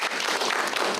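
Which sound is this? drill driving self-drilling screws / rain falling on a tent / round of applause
round of applause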